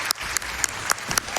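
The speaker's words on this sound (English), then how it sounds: "you can clap if you want to" Audience applause at a live speedrun event, a steady patter of many hands clapping at moderate loudness with a few sharper claps standing out, heard alone without talk.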